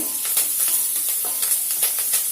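Three finely chopped green chillies fry in a pan, a close, steady sizzle and hiss broken by repeated short crackling bursts, with no talk.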